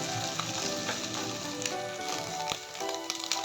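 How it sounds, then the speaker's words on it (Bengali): Eggs fry in oil in a kadai, a continuous close sizzle with scattered crisp pops and crackles throughout. "ডিমটাকে আমি এখন লাল লাল করে ভেজে নেব।"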